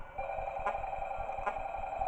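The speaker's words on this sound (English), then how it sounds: "So we get a phone call, okay." A telephone rings in the horror video game Escape To Tubbyland 2, a steady electronic trill with two brief pulses over a constant hum, with no talking.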